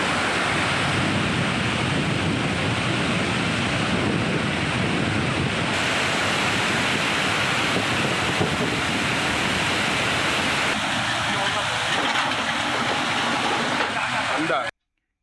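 Flash floodwater pours over the Courtallam main falls in Tenkasi during heavy rain, a continuous loud roar of rushing water, with a voice faintly audible near the end.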